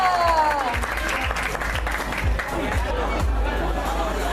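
Audience applause at a school arts performance, steady clapping from a crowd filling the whole stretch, with some chatter mixed in.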